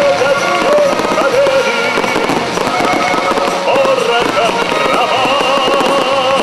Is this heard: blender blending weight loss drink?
no